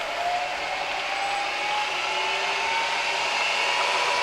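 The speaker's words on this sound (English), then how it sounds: "That's at about 260 RPMs. The head sounds really good. Very little rattling in there." Used Bridgeport Series 1 vertical milling machine head running in low range at about 260 RPM; a steady, close motor hum and whine with a faint tonal drone and little rattle, unbroken throughout.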